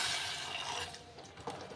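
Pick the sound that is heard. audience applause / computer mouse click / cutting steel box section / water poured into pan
water poured into pan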